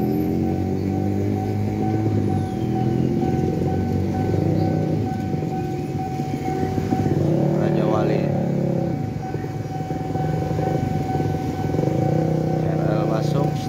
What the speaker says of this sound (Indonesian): KRL masuk stasiun Raja Wali.